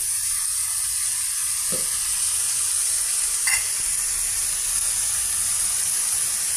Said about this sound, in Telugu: మన భెండి టమాటా ఫ్రై రెడీ అవుతుందండి